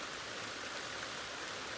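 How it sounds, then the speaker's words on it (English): Steady rain pours down on Cape Cod, close to a downpour, a dense continuous hiss of drops with no break and no voices. "Almost a downpour."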